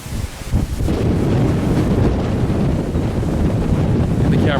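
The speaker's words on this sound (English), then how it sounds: "The camera might sound like it's windy, and it is, but it's a very nice, warm wind." Strong warm wind buffets a camera microphone outdoors at a resort grill area, a steady loud low rumble with gusty swells running continuously throughout.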